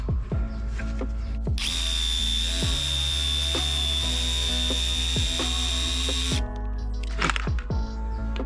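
A reciprocating saw with a Milwaukee blade buzzes steadily for about five seconds as it cuts wood, with clicks and handling knocks before and after.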